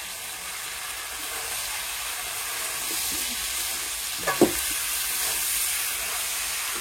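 Potatoes dropped into a pan of red, well-browned chicken curry, giving a steady hiss of frying with a brief clattering burst midway, no voices.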